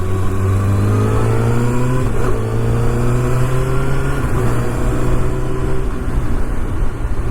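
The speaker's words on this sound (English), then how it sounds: "You guys might have observed that I have the quick shifter on. Let's just test it out a bit over here." Kawasaki ZX6R motorcycle engine accelerating hard and loud, its pitch climbing and then dropping sharply as a quick-shifter gear change snaps through, then rising again.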